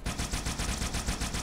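Rapid automatic gunfire from a Halo 2 weapon, a steady stream of closely spaced shots rattling on without pause, loud and continuous throughout.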